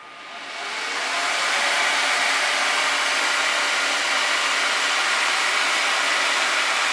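An ASUS ARES graphics card fan gives a loud, steady whooshing roar that swells up in the first second, then holds constant and close with no talking.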